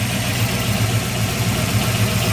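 A 1966 Chevrolet Corvette 427 convertible engine runs steadily at idle, a close, loud, even low rumble with a slight knocking pulse throughout; no voices.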